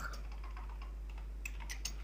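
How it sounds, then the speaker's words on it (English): Rapid keystrokes on a computer keyboard while coding HTML links, a steady close patter of light clicks with a few sharper taps near the end, alone without talk. "and I'm just typing here"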